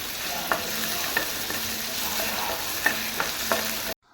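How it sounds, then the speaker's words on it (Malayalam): Crushed ginger and garlic sizzle steadily in a hot pan while a utensil stirs them, giving a few soft scrapes and taps over the constant frying hiss for pepper chicken. "അതും കൂടെ ഇട്ടിട്ട് ഒന്ന് ജസ്റ്റ് ഒന്ന് ഇളക്കാം"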